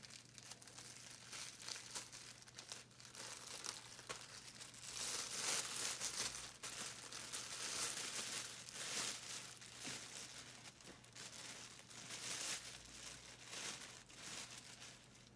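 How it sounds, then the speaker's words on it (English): A plastic garbage bag is handled during a wound dressing setup, giving quiet, continuous crinkling and rustling with uneven bursts, close but faint. "And then I'm gonna grab the garbage can, the garbage bag."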